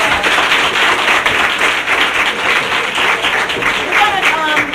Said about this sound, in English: Let's give him another applause.